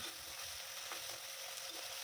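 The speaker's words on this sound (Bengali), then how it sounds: "পেঁয়াজটা ভেজে হালকা ভেজে তার মধ্যে টমেটো দিয়ে দিলাম" Chopped onion and tomato fry in hot oil, giving a steady, even sizzle that carries on unbroken with faint stirring scrapes.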